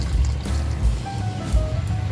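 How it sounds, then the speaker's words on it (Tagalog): A little water is poured into a pot of pork menudo with pork cubes, giving a soft liquid gurgle and splash against low background noise, with no talk. "Maglalagay lang tayo guys ng konting tubig."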